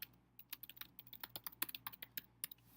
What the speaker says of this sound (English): I would begin by typing in a title for your document.